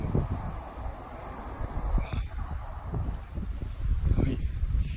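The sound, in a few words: strong wind during Typhoon No. 10 in Gifu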